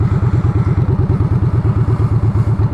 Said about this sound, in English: I'm gonna park in the corner